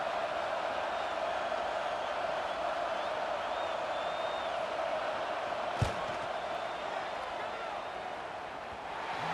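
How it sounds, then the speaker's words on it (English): Stadium crowd in a football video game during a fourth-down field goal attempt, a steady, continuous roar of distant fans with a single sharp thump partway through. "This crowd trying to do its part to get inside the kicker's head."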